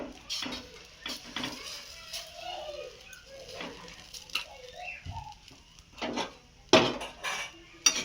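A spoon scrapes and taps against a frying pan as beaten egg is spread around it while making a homemade egg roll, giving a quiet series of scattered clinks and scrapes with a couple of sharper knocks near the end.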